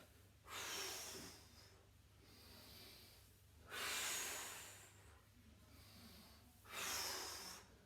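Forceful exhalations come from a person doing an ab exercise. Three long, breathy blows fall at a steady interval of about three seconds, and softer inhales sit between them, close to the microphone.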